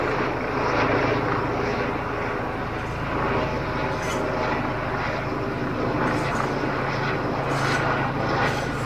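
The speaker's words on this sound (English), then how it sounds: "I'm sure the moment I stop making this video, this helicopter will also disappear." A helicopter flies over an outdoor fruit orchard, its steady droning engine and rotor noise loud and continuous throughout with no clear passing peak.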